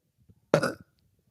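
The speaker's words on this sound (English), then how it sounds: "Hold on, I have to burp." A single short, loud burp from a woman, sudden and close, preceded by faint breathing.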